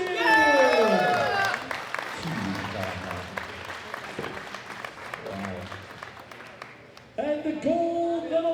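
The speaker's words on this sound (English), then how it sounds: "a big round of applause for Raya" An arena crowd at the 2018 World Classic Powerlifting Championships, women's open 72 kg, applauds a medal winner with steady clapping. An announcer's amplified voice rises over the start and returns near the end.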